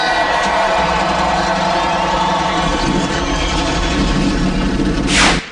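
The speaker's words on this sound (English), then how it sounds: "Gentlemen, start your engines." NASCAR race car engines at the Auto Club 400 in Fontana fire up together into a loud, sustained roar mixed with crowd cheering, holding steady throughout before a brief swell at the end.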